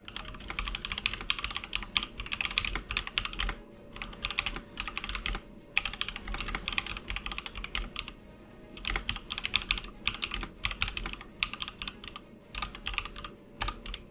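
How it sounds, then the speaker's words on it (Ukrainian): Steady, rapid clacking of a Rockfall 2 mechanical keyboard as a sentence is typed, with irregular bursts of keystrokes and brief pauses, close and alone without any talking. "От такий класнючий звук вона має, поки я набираю це речення до сценарію."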